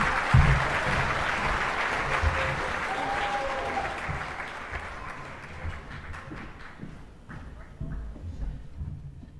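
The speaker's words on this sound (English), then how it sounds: "can I have a big round of applause, please, for Mrs. Evans and her work with the Tute 1" Sustained applause from an audience at a Year 12 school presentation night, a steady crowd wash that gradually thins and fades near the end into scattered claps.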